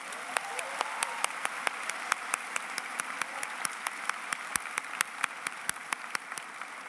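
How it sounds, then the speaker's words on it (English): At a spring university commencement ceremony, the audience's applause comes through as a faint, even wash of clapping. A few sharp, regular claps stand out clearly nearby over it. "now let's give them all a round of applause"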